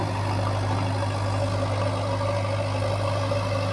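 A new bulldozer running while dozing, a loud steady low diesel drone with a constant hum and no voices.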